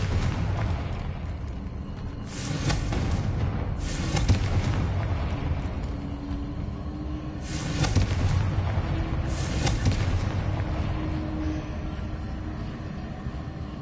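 Confringo fire spell blasts from Hogwarts Legacy: repeated loud explosive bursts arriving in pairs over a steady rumbling background, with crackling trails between the booms.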